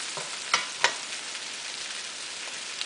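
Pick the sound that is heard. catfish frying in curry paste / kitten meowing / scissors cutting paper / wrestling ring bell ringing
catfish frying in curry paste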